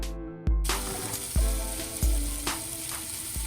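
Brussels sprouts sizzle face down in a hot pan with a steady bright crackle, punctuated by several dull thumps and clatters as they are placed and shifted.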